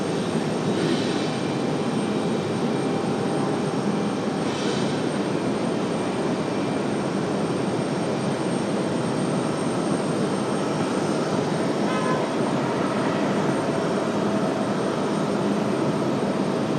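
A Southwest jet airliner at RDU airport, heard as a steady, loud broadband engine roar that holds evenly throughout, with no voices.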